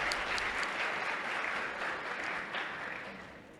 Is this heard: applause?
yes